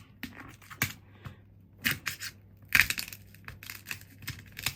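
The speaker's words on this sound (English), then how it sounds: "These are shards of actual glass just falling off a phone." Shards of real glass break and fall off a fake iPhone, making a scattered series of sharp, close clicks, crunches and scratchy ticks with brief quiet gaps between them.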